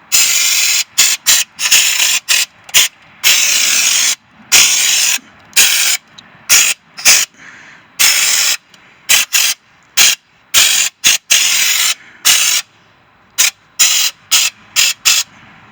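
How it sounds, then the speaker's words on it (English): A trigger sprayer applies coating to a rusty pickup truck frame in about twenty short, sharp bursts of loud hissing spray, each cut off abruptly, with brief silences and faint clicks between pulls. "But watch how this sprays, how nice."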